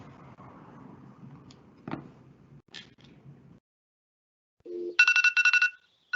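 During a virtual city council meeting, a phone call is placed: soft background noise and a couple of clicks give way to a dial tone, then a loud, repeated electronic ringing in short bursts.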